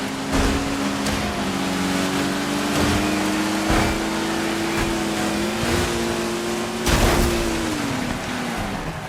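Racing car engines from the video game Dirt 5 drone steadily throughout, a sustained rising and falling engine tone with a few louder bursts, no talk over it.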